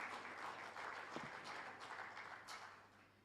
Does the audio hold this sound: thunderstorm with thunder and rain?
no